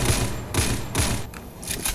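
Bursts of M249 machine-gun fire in the Roblox shooter Counter Blox come as regular, punchy volleys about every half second, close and loud, with a few quicker shots near the end.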